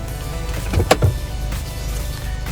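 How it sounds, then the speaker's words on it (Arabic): An electric sunroof on a 2023 Chery Tiggo 3 opens, with a low whirring motor hum inside the cabin, a couple of soft mechanical clicks and thumps near the middle, and the motor droning on afterward. "عندنا 2 مرحله فتح سقف شراعه او فتحه السقف كلها."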